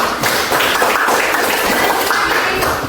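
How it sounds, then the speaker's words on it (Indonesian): Students in a junior high school classroom applaud as a group, a steady wash of clapping that fills the room at close range and runs through the whole moment without a break. "Oke, tepuk tangan dulu."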